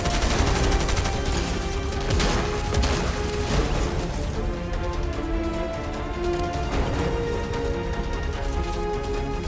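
Rapid gunfire bursts in the Fortnite video game, dense repeated shots and crackling impacts in quick clusters throughout, loud and continuous with little pause.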